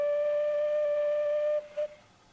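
A single steady steam locomotive whistle from an L&Y Class 23 in a train simulator game sounds for about a second and a half, then a brief second toot, clear and alone.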